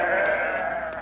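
A single sheep bleat, loud and close, a wavering nasal call lasting about a second, heard on its own with no talking.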